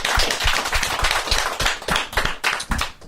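A small audience at a music-industry panel on anti-Black racism in Canadian music applauds a panelist, steady, close hand clapping with sharper individual claps standing out, continuous for about three seconds with no talking.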